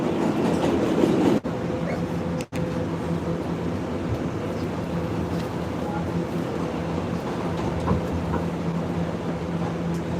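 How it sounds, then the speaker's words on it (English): A New York City subway A express train bound for 207th Street runs with a steady, loud rumble and rattling wheel noise, broken by two brief gaps early on. "This is a 207th Street bound A express train."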